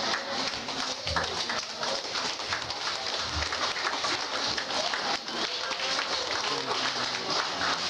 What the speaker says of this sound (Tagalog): Salamat sa isang pumalakpak sa Diyos